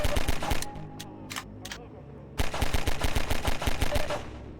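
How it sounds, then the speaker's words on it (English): Rapid pistol gunfire in Half-Life 2, with fast bursts of sharp shots, a short pause with a few isolated shots, then another quick run of evenly spaced shots, loud and close. "The gun will fire as fast as the player can click their input button"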